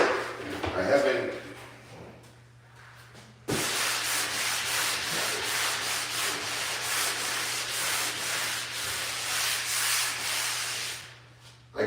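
A small hand sander rubs across a surface in a site room being prepped for paint, a brief scrubbing stroke followed by a long, steady rasping run.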